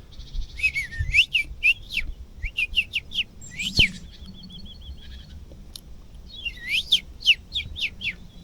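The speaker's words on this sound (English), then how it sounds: "You guys can see these birds." Several birds chirp and whistle outdoors in woodland, with bursts of quick, bright, repeated phrases that come and go, fairly close and clear over a low background rustle.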